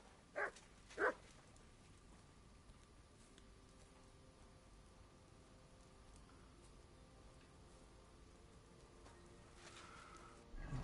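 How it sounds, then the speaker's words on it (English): Dog in the medieval role-playing game Kingdom Come Deliverance 2, giving two short barks close together near the start, then quiet ambient background for the rest. "You silly doggy."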